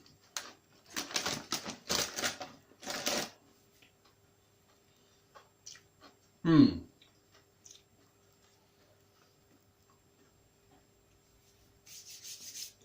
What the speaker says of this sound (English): I'm going to bite a sandwich, then I'm going to have a couple of big old crisps with it.